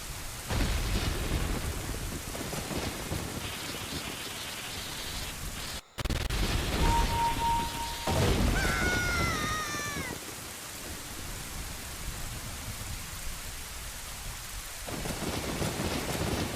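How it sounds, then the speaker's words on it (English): Steady rain and rumbling thunder fill the scene in Zelda: Ocarina of Time, a continuous broadband wash with a brief cutout midway and some chiming game tones layered over it. "why does it rain over here specifically, but not down there?"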